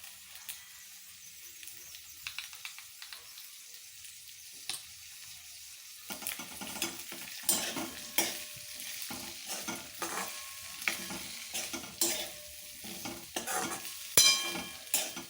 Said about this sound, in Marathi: चांगलं मिश्रण हे कालवून घेऊ त्याच्यामध्ये